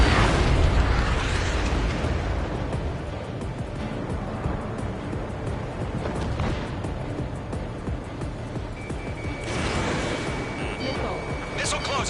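A missile launch and explosions in a jet combat video game make a continuous loud rumbling roar with booming swells, and a voice talks over the noise.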